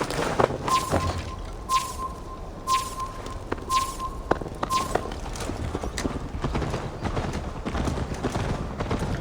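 Horse hooves clip-clop in a steady, fairly loud gallop rhythm while riding in Assassin's Creed Valhalla, with a thin tonal note and other game sounds layered around the hoofbeats.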